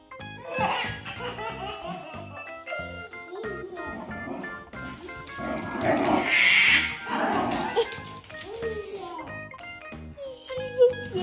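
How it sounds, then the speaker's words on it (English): A dog's playful growls and yips during backyard tug of war mix with a baby's giggles and laughter nearby, the sounds rising and falling in bursts. "When dogs growl when playing, it's understood to be them laughing."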